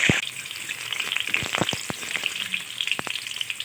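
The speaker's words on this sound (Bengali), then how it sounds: "দিয়ে দিচ্ছি সর্ষের তেল আলুগুলোকে ভেজে নেবো" Potatoes fry in mustard oil in a hot karahi, with a close, crackling sizzle and scattered sharp oil pops over a constant hiss. No voices are heard.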